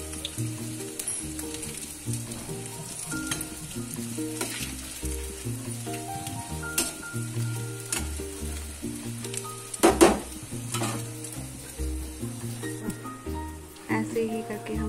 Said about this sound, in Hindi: ऐसे ही करके हम थोड़ा थोड़ा करके सारे पकौड़े तल लेंगे।